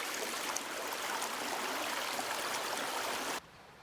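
A creek on a winter hiking trail rushes over a crossing, a loud, close, continuous broadband wash of flowing water that cuts off abruptly near the end.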